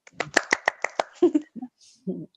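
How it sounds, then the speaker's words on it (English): A training-course audience claps for themselves in a short burst of about half a dozen sharp claps, followed by brief speech. "So first clapping for each one of you"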